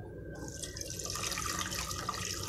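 Water splashing and trickling onto kneaded wheat dough in a bowl for Tirunelveli halwa, a short steady pour heard close up with no talking.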